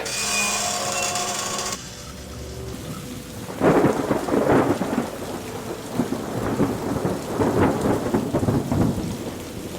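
Rain falls outside in a steady hiss, with rumbling thunder rolling in waves over it after a short stretch of tonal sound at the start.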